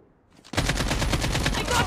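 Call of Duty: Mobile Team Deathmatch gunfire hitting the player, starting abruptly as a loud rapid automatic burst that continues steadily for over a second.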